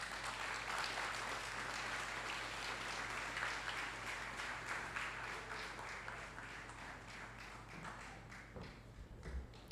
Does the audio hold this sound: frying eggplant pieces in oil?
no